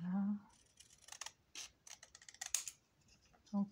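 A series of small, crisp snipping clicks from a handheld corner rounder rounding the corners of decorative paper for an album, irregularly spaced and quiet, with brief voice fragments at start and end.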